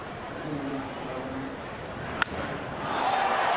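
A baseball stadium crowd murmurs and swells after a hit to center field in a Minnesota at Pittsburgh game, with a sharp crack and rising cheer under an announcer's voice.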